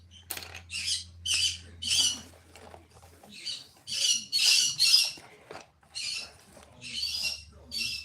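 Pet birds at home give repeated loud squawks and chattering calls in bursts, with a low steady hum underneath at times.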